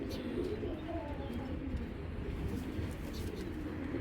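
A female Kaldom Giribaj pigeon coos softly amid a busy loft, low burbling calls repeating over a constant murmur of other birds, with faint chirps above.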